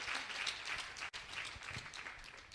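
Congregation applauding in a church service, a steady wash of many hands clapping at moderate distance, sustained with a brief dip partway through.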